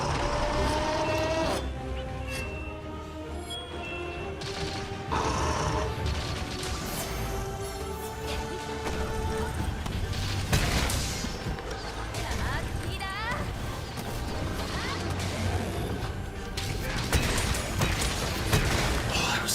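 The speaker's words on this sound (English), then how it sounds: "Is it really starting off with the carpet bombing?" Carpet bombing in a video game, a rolling series of crashing, booming blasts and debris clatter that keeps going for many seconds, with a person talking over the explosions.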